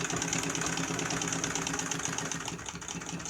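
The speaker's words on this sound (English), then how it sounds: "So yeah, also this is a treadle. My other machine is electric, so I have to treadle this." A Singer 66 treadle sewing machine stitches fast and steadily, a continuous close mechanical whirring and rattling with no voices.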